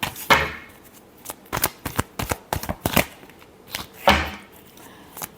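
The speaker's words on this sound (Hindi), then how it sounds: "चलिए लास्ट शफल।" Tarot cards are shuffled by hand in a series of quick riffling bursts and sharp slaps, close and crisp with brief pauses between, and no talking.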